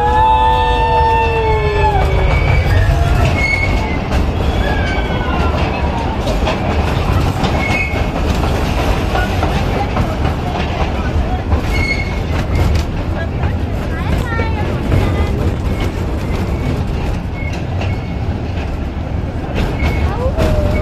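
A joy-ride toy train at the National Rail Museum in Delhi rumbles steadily along its track, with wheel squeals and clatter early on and voices talking over the continuous running noise.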